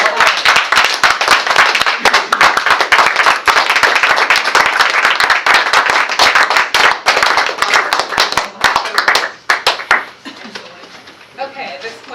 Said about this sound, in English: Can we stand and give her a round of applause?